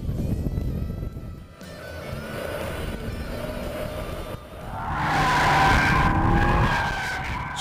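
A BMW M5 with thick exhaust pipes drifting sideways, its tires skidding and squealing loudly over a revving engine, building to a sustained howl in the second half.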